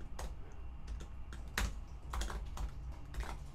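Computer keyboard typing, a short burst of key presses in an uneven rhythm with a few louder strikes, close up and alone with no talk, entering text into a WordPress plugin field.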